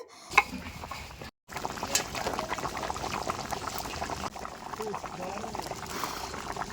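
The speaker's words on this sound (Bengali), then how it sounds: "তরকারি কিন্তু আমাদের বেশ ফুটে উঠেছে" A village-style curry of small freshwater snails bubbles and simmers in a cooking pot, a steady close boiling gurgle that runs beneath a person talking.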